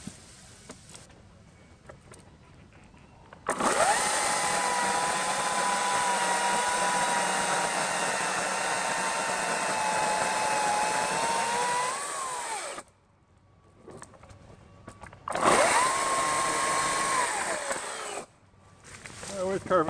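A Ryobi 40V electric 20-inch chainsaw runs in two loud bursts, a long steady whine of about nine seconds that sags under load, then a shorter run after a pause, with quiet talk in the gaps.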